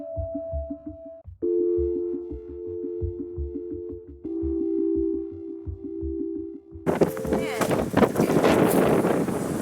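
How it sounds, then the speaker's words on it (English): Harsh wind buffeting a microphone at Garner State Park, Texas, roaring loudly near the end after a stretch of steady humming tones and background noise. "We can't get away from this wind."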